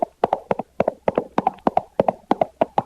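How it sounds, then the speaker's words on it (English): A horse's hooves clip-clop in a steady, even rhythm, about four beats each second, loud and close, with no other sound behind them. "I see Don Diego's horse approaching"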